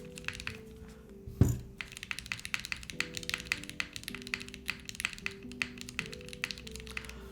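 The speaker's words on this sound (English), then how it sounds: "Subtle, nice typing, Yannick." Typing on a Haven TKL mechanical keyboard with capacitive switches, a quick irregular run of soft, subtle keystrokes, close and quiet, with one sharper knock near the start.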